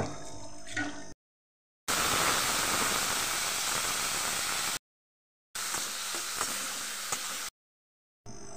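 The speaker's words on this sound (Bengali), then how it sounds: "এখানে রাঙা আলু নিয়েছি, এটা পেঁয়াজ দিয়ে ভাজা করবো" Sweet potato frying with onion hisses steadily in short stretches, broken by abrupt silent gaps, with a soft, close sizzle.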